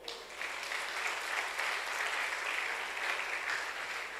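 A church congregation applauds during an evening service, a dense, steady wash of many hands clapping at moderate distance with no voices breaking through, sustained evenly throughout.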